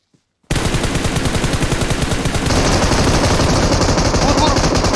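Automatic gunfire in the PUBG Mobile video game: a loud, rapid, continuous burst of shots that starts abruptly after a brief silence and runs without pause to the end.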